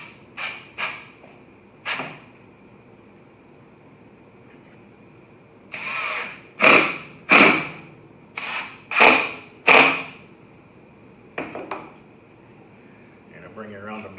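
A power drill drives one-inch drywall screws into a wooden table saw jointing jig, with several short whirring bursts of varying length separated by pauses, close and fairly loud.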